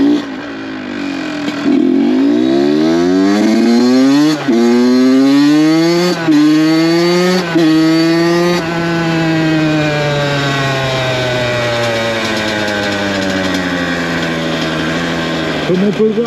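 A small 1982 Honda CR supermoto two-stroke with an FMF exhaust rides past, its engine revving hard through repeated rising and falling sweeps, loud and close, with a long sustained pull after the gear changes.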